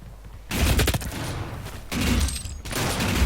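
Heavy shotgun blasts from DOOM multiplayer gameplay, three loud bursts in quick succession with a brief gap between them, each booming and sustained like rapid volleys.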